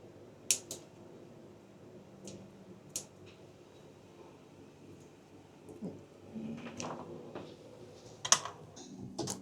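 Scissors snip through kokoreç, a Turkish dish of grilled lamb intestines, in a chef's kitchen, giving several sharp separate clicks and crunches spread over the stretch, fairly close, with soft kitchen rustling in between and no talk.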